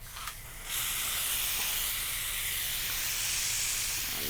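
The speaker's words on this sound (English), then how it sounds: "So let me get my little handy dandy sprayer." A handheld spray bottle misting seed starting mix, heard as a brief click followed by a close, steady, continuous hiss lasting several seconds, with no talking.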